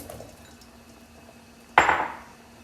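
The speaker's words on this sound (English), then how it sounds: "I'm going to add some onion which I sliced big" Big-sliced onion dropped into a hot pan of olive oil, bursting into a sudden loud sizzle that gradually fades, after a quiet moment of faint kitchen noise.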